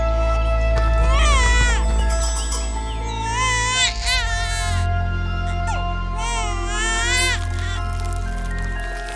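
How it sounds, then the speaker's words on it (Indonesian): A newborn baby girl cries in loud, clear wailing bursts, several drawn-out sobbing cries with short breaths between, close and prominent over a steady background of music. "Tangisan putri yang jernih terdengar seperti gelombang lembut di ruang yang tenang"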